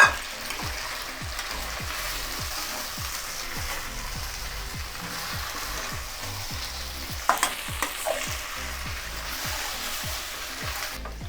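Chilli chicken frying in a pan is stirred, a steady sizzle cut by a rhythmic series of scraping strokes, close and clear, with a few louder utensil knocks later on and no talking.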